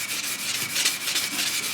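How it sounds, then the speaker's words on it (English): Sandpaper wrapped around a wooden Traditions St. Louis Hawken rifle stock, rubbed in quick, steady back-and-forth strokes, close and loud with a continuous hissing scratch and no voice. "wrap that sandpaper around and hit those areas that you you want to overlap the areas that you just worked on"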